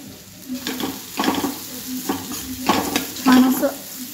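Curry leaves and turmeric sizzle in a hot pan as a spoon stirs them in a few rhythmic scraping strokes, with a steady frying hiss underneath and a clink of utensil against the pan.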